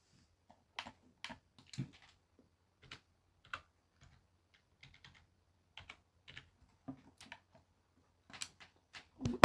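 Keys clack on a computer keyboard in irregular bursts, soft and close, with brief pauses and a faster flurry near the end.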